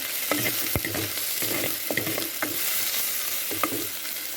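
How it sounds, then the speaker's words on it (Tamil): Drumstick leaves sauté in a little oil, a soft sizzle broken by close scraping stirs and a sharp clink of the utensil against the pan, no one speaking. "ஆயில் ரொம்ப விட வேண்டாம் கொஞ்சமாக விட்டுக்குங்க சத்துன்னு செஞ்சிடலாம் இது கொஞ்சம் வதங்கணும்"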